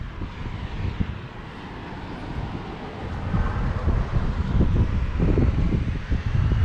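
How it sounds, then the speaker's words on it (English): Wind blowing across an apartment balcony overlooking the sea in Malta, a steady rushing roar with heavy buffeting gusts hitting the microphone that grow stronger toward the end, with no talking. "It's windy today"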